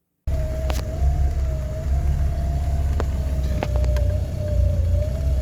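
A car engine idles poorly and will not stay running smoothly in neutral, giving a close, steady low droning hum with a slightly wavering whine on top and a few faint clicks, with no talking.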